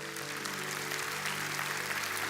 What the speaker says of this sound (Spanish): que le dé un aplauso al Señor.